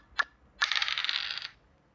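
Digital dice in the online board game Parchís Star: a short click, then a bright rattling roll of about a second that stops cleanly, heard alone.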